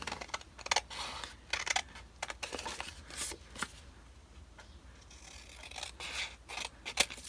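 Scissors cut a paper journal card with scattered close snips and rustling paper handling, irregular in rhythm, with quieter shuffling between cuts.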